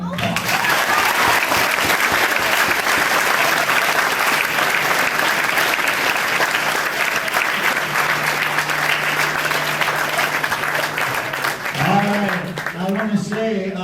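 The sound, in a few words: audience applause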